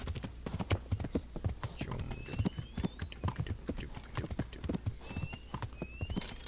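Horse hooves galloping in the medieval role-playing game Kingdom Come: Deliverance, a fast steady clip-clop rhythm close by, with a faint rising whistle-like tone now and then and an occasional soft whinny.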